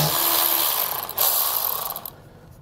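Ratchet working loose the heat shield nuts on a 2020 Mercedes-Benz GLC during a trailer hitch install: quick, close mechanical clicking, with a short steady run of ratchet strokes that stops near the end.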